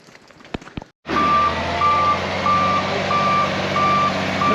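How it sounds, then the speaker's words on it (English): A road grinder truck backs up on a roadwork stretch. Its reversing alarm beeps at a steady, regular rhythm over a loud, close diesel engine rumble, after a brief quieter moment of clatter. "here comes the grinder. He's backing up for the last pass on this stretch."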